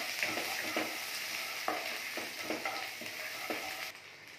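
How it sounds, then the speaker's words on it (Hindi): Cumin, grated ginger and garlic sizzle steadily in hot oil and butter for a paratha filling, with close, loud frying hiss broken by several sharp stirring scrapes in the pan. "इसमें डालेंगे थोड़ा सा जीरा, डालेंगे हम थोड़ी सी अदरक लहसुन की ग्रेट की,"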